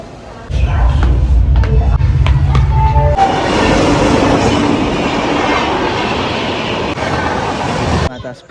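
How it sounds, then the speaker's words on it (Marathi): A train pulls into Daund railway station, its loud rumble and clickety-clack of wheels filling the platform close by, with wheel squeal and voices in the background. "फायनली आपली ट्रेन इकडं आलेली"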